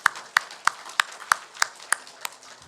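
A congregation claps in unison at a Korean Sunday worship service, about eight sharp, evenly spaced claps in a steady rhythm, fairly close and with no talking.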